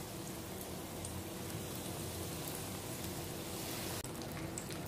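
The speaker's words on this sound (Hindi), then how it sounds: "अब मैं इस तरह करके एक एक स्प्रिंग रोल फ्राई कर रही हूँ" Spring rolls deep-fry one by one in hot cooking oil in a kadai, giving a steady, even, fairly quiet bubbling hiss throughout with no voices.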